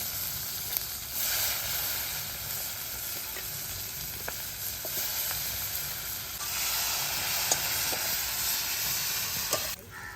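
Chopped onion sizzles in hot oil with whole cumin seeds and bay leaf over a village clay stove for a Bengali catfish curry, a steady loud frying hiss with occasional stirring clicks throughout.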